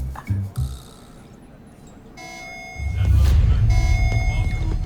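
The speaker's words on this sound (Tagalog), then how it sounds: "Alarm na naman. General alarm to." A general alarm in a TV drama sounds as steady repeating beeps and tones, starting faint and then growing louder and fuller midway, with a low rumbling bed beneath. Brief voices are heard at the start.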